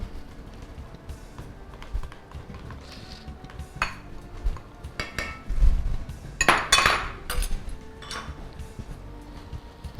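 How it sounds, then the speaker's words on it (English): Yogurt being whisked in a bowl for an Instant Pot egg biryani, irregular metallic clinks and scraping bursts of the whisk against the bowl, loudest around the middle. "There the whisk goes."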